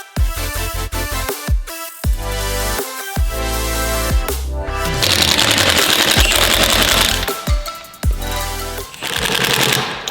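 Lug nuts go onto a Civic Type R wheel with an impact gun, loud repeated rattling bursts separated by brief pauses, close and dominant.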